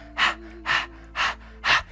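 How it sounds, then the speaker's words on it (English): Rapid, forceful breath-of-fire panting with the tongue out during Kundalini yoga, four loud, evenly spaced breathy huffs close to the listener over a quiet steady hum. "you pant like a puppy going up a hill"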